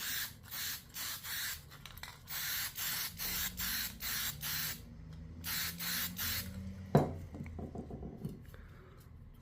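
Fabric spray paint hisses from an aerosol can onto a car roof liner fabric in short repeated bursts, close and loud, with brief pauses between them, followed by a sharp knock and some faint handling sounds.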